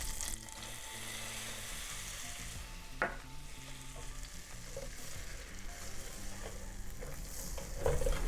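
Butter and flour roux cooking in a pan on medium-low heat, with a steady soft sizzle and faint stirring scrapes over a background of tonal music, with no talking.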